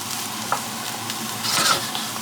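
Garbanzo beans and vegetables are stirred in a hot pan over medium-high heat, with a constant close sizzle and a few scraping strokes of the utensil.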